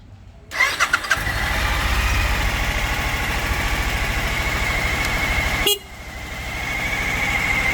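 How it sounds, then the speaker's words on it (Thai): A 2018 Suzuki V-Strom 1000 XT motorcycle engine cranks and catches, then settles into a steady, throbbing idle close by, with a brief break near the end before it resumes. "เรามาฟังเสียงเครื่องยนต์กันนะครับผม"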